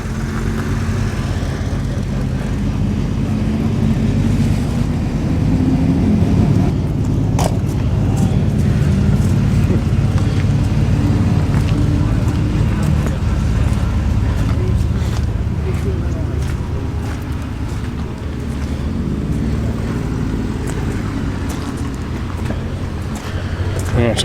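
Old cars at a classic rally, including a Mark 1 Fiesta XR2 with pepper pot wheels and a 1965 Mini, pulling away with a continuous loud engine drone and rumble while someone talks over it.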